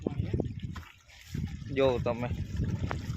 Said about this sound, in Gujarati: કાનભાઈ નું જે વાવ માંથી પાણી આવે એ તમને દેખાડી દઉં કેટલું પાણી આવે